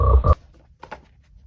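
A small green frog croaks on a half-sunk log in a bog, one loud close throaty croak followed by a couple of fainter, shorter croaks after a pause.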